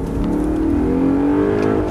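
An Audi R8 accelerating on a track, its engine note rising steadily in pitch as it pulls through a corner, heard loud and close from the car.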